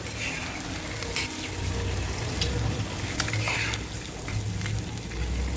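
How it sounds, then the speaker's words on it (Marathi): Eggs fry on a tava with turmeric, salt and chili powder over low gas. A steady, close sizzle continues throughout, broken by occasional scrapes and taps from a spatula. "एक ते दीड मिनिट मस्त अंडे याच्यामध्ये फ्राय करून घेऊ"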